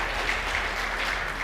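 Brief applause from a church congregation at a Sunday sermon, an even patter of many hands clapping heard throughout the short moment.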